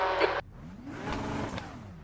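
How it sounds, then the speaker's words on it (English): A race car engine in the iRacing simulator lets out a short rising turbo whoosh and rev after a brief burst of louder noise, the engine tone sweeping up over about two seconds, moderately quiet. "Heard the turbo whoosh from the engine."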